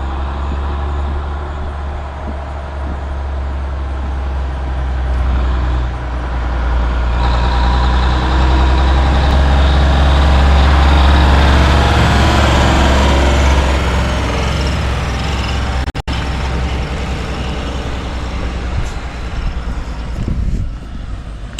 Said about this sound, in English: I've been waiting since January to see that truck do a run by.